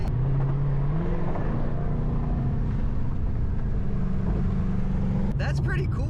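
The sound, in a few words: Shelby GT500 driving on the highway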